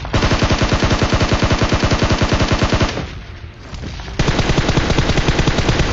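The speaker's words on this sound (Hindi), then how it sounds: "मेरे राइट साइड से कुछ फायरिंग की आवाज़ आती है" Rapid automatic gunfire in PUBG as three teams battle inside one house on Erangel, a loud continuous stream of shots with a brief quieter gap partway through before the firing resumes, close and dense.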